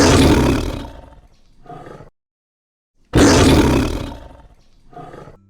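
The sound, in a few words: lion roaring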